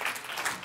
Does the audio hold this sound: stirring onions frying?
no